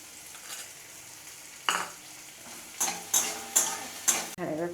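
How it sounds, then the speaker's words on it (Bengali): Onion, garlic and green chili fry softly in a pan while a spatula stirs them, each of several scraping strokes adding a short burst of sizzle over a low continuous crackle. "এবার পেঁয়াজ রসুন লঙ্কাটা ভাজা ভাজা হয়ে গেছে"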